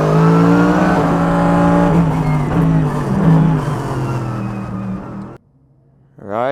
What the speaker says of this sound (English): We are on board the Toro Racing AMG GT3.